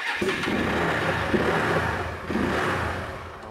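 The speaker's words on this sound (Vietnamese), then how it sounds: "xe rất là sạch đẹp nổ máy móc êm lắm" A motorcycle engine runs close by at a steady idle, with a couple of brief throttle blips raising the rumble.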